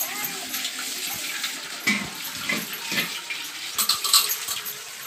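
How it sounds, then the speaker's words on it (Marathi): Water runs from a tap into a pot as a child fills it at home, a steady splashing wash with brief irregular surges, close by and moderately loud with no talk over it. "कशी पाणी भरू लागते"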